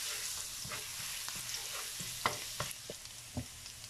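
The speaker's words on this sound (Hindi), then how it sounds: "ऑयल गर्म होने पर इसमें ये लहसुन शामिल कर देंगे" Chopped garlic frying in hot oil in a pan for pizza sauce, a soft steady sizzle with scattered crackles and a few stirring scrapes, fairly quiet and heard alone.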